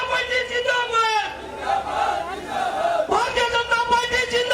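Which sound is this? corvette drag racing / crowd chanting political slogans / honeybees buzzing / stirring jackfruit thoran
crowd chanting political slogans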